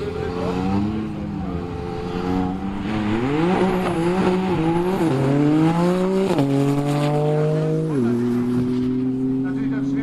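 Loud, sustained roar of a tuned Porsche sprinting down a quarter-mile drag strip at Brilon, its engine note climbing in stepped gear changes with faint tire squeal. A voice talks over the din.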